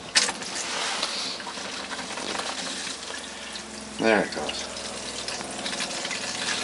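Water runs steadily from a cold tap in a motorhome with a constant rushing hiss, while a person speaks briefly partway through.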